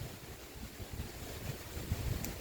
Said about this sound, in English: Okay, the wind is getting stronger.